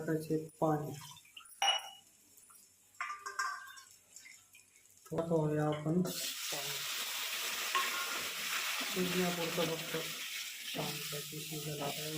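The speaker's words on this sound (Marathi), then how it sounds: "मस्तपैकी फ्राय झालेले आता वांगे आता त्याच्यावरती हा मसाला टाकून देऊ आपण" Eggplant frying in oil in a pan as masala is added to it, with a steady sizzle taking over partway through and continuing to the end, after some stirring and clinks of utensils; a voice talks over the start.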